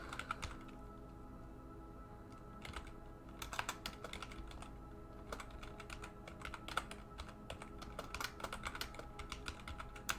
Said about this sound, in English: Typing skills are not great.